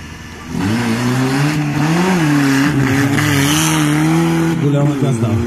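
A Suzuki Samurai off-road car at an off-road event in Bourgas revs hard at full throttle, its loud, close engine holding a sustained wavering roar for several seconds while a voice speaks over it.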